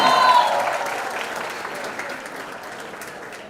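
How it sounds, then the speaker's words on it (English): A college audience at a campus event claps in dense, steady applause that starts loud and gradually fades, with a brief voice heard at the start. "can we have a huge round of applause once again for Ayush and Mahima"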